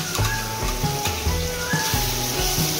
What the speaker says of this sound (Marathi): चांगला असा मसाला भाजून घ्यायचा आपण तेलात।